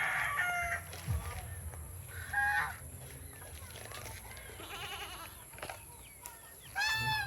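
Chickens cluck and squawk in a busy backyard farmyard, with bursts of calls from several birds, some near and loud, over a background of other animal noises.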